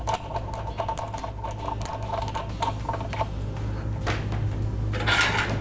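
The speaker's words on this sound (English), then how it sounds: "Then you'll grab the big bolt, flat washer." Metal hardware, a big bolt and a flat washer, handled during installation of a Shore Commander direct drive motor, with light clinks and small metallic taps and rattles nearby, a brighter jangle near the end, no talking.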